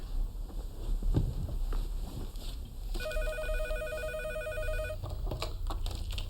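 A telephone rings at home: one electronic ring lasting about two seconds, heard over low household background noise.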